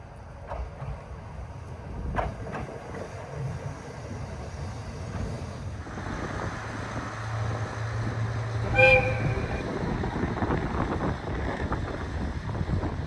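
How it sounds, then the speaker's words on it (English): A small train passes through remote Kitahama station in Japan, a low rumble swelling over several seconds with a short horn toot midway, set against steady wind noise outdoors. "Occasionally, a small train chugs its way through this enchanting world."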